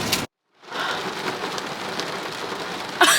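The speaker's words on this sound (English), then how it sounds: "It's pouring down." Heavy Florida storm rain pouring down, a dense, loud, continuous roar of drops hitting surfaces, briefly cut to silence near the start, then returning strong with a sharper splash at the end.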